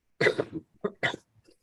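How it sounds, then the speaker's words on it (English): A person coughs several times in short bursts, a hard cough followed by smaller hacking coughs and a faint throat clear, close to the microphone, with no talking. "you might hear me blow my nose or cough"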